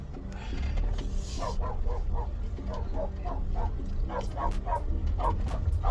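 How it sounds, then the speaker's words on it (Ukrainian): A dog barks repeatedly in quick, rhythmic bursts nearby, over a constant rumbling background. "Вибачте, на мене собака напала."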